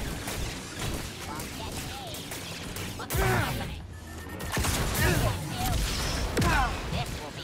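Gunfire in the Star Wars Jedi Survivor game comes as loud bursts of shots, crashes and whooshing hits in a busy combat mix, with a heavy impact midway and a player's voice cutting in over the fighting.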